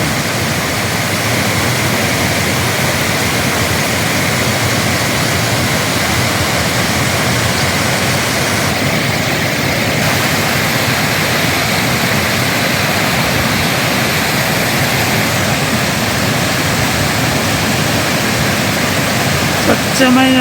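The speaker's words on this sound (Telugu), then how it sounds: "ఇది 2-3 రోజుల కింద పడ్డ వర్షానికి ఇంకా నీళ్ళు పారుతూనే ఉన్నాయి" Rainwater left from a downpour a few days earlier pours over a pond weir in a steady, loud, roaring rush that stays constant throughout, with no pauses and no voices over it.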